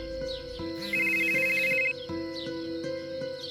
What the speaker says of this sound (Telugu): మరుసటి రోజు ఉదయం రాజు హేమంత్కి ఫోన్ చేస్తాడు.